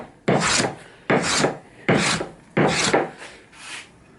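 Hand plane shaving across a timber surface, five long rasping strokes in a steady rhythm, close and loud, with short pauses between passes and no talking.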